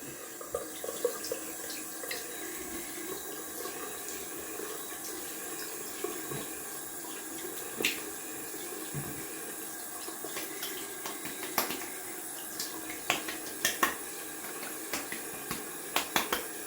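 Cold water runs from a tap into a sink for rinsing after a wet shave, a soft, steady stream heard faintly and fairly far off, with scattered small splashes and clicks throughout and no talking.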